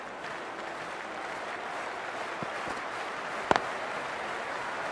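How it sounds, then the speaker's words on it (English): Crowd noise before the start of a women's cricket match in The Hundred, Birmingham Phoenix against Southern Brave. It is a steady, fairly distant wash of applause and murmur with a couple of brief sharp knocks. "We're about to get underway and already the crowd is up and about."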